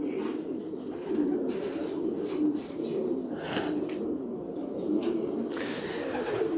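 Pigeons coo steadily on a rooftop where young birds are being flown, soft repeated calls close by over a faint background hum, with occasional brief chirps.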